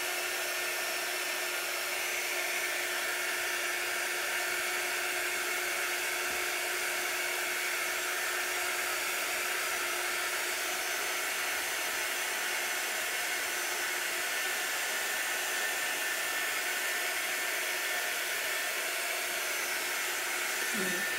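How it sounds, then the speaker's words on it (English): Quick dry heat tool blowing hot air to dry ink on a tee shirt, a constant loud whooshing hiss with a steady motor whine that runs unbroken from start to finish. "This is our quick dry tool."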